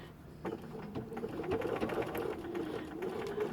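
A sewing machine starts up and runs steadily while stitching a quilt, a close, even motor hum that builds after a brief quiet start.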